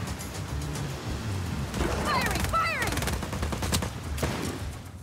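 Gunfire in the video game Just Cause 4: loud, rapid bursts of shots and crackling impacts stacked over a busy game backdrop, with a dense volley in the middle and scattered shots afterward.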